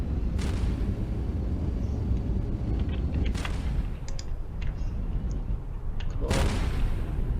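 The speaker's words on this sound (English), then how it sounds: "Why are there explosions?" Explosions boom through a video game set in a radioactive wasteland, sounding over a constant loud rumble as a few sharp blasts hit at intervals. A player briefly speaks over them.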